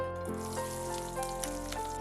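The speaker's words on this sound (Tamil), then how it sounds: "இதில் பதினஞ்சு டு இருபது சின்ன வெங்காயம் எடுத்திருக்கேன் இதை வதக்கிக்கலாம்" Fifteen to twenty small onions sautéing in hot oil for a guava chutney, giving a steady close-up sizzle and crackle with faint clinks, and no talking.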